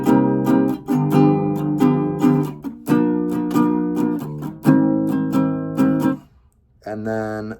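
An electric guitar plays a short chord phrase from a song, in the NPR Tiny Desk version, with clean rhythmic strums in bursts, then a brief pause and a final strum.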